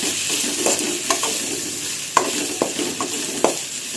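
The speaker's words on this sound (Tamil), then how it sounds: "தக்காளி நல்லா வதங்கட்டும்." Tomatoes sizzle in hot oil in a pan, cooking for a crab gravy, with a steady hiss and a few scraping stirs of a spoon against the pan.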